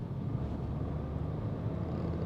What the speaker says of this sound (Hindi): अभी 60 पे चल रही है गाड़ी और मैं टैप किया, गियर डाउन हुआ,